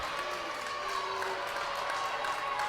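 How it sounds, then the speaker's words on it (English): Spectators at a high school girls district championship basketball game make a steady, moderately loud crowd roar with scattered cheering and clapping, a continuous wash of noise with no breaks. "As both crowds starting to make some noise."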